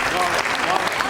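Audience at a Diwali birthday celebration gathering breaks into a dense wash of applause, continuous and fairly loud, with voices mixed in underneath for about a second.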